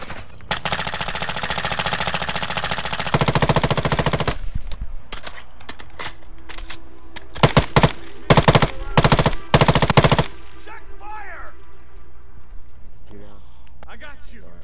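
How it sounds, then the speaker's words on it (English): Video game gunfire during a Vondel investigation mission: loud automatic bursts of rapid shots, then several short choppy volleys, with people talking throughout. "I thought they were bots and I started shooting them."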